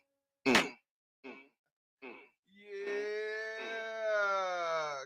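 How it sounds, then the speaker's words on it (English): Cows mooing: after a few short grunting calls, a long, loud, drawn-out moo swells and holds, close to the listener, with no talk over it. "Cows"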